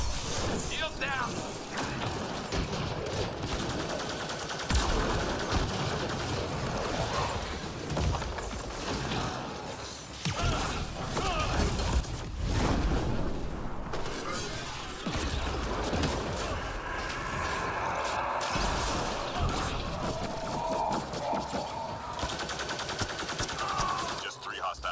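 Rapid bursts of gunfire in Mass Effect Andromeda multiplayer, with dense weapon fire, clanks and impacts running through the whole stretch. Spoken voices come and go beneath and between the shots.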